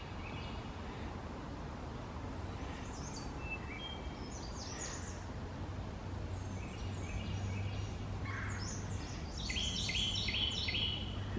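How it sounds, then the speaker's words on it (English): Birds call in the woods on a spring morning hike in Iroquois Park, including a Carolina wren, with scattered chirps and short whistled phrases rising from a steady low background hum, mostly faint and distant with a few clearer calls near the end. "When I hike, I love listening to the birds in the background."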